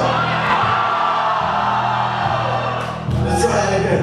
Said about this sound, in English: when I say go, everyone cheer Michael!